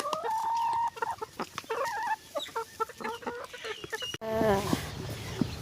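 Laying hens on a farm cluck and squawk in a busy, close, irregular chorus, with one longer drawn-out call early on and a sharper burst of calls toward the end.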